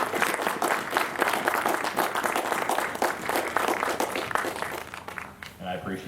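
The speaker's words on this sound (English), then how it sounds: "So please give the veterans a round of applause." An audience at a Veterans Day gathering applauds veterans, a dense, sustained round of clapping that tapers near the end as a voice briefly returns.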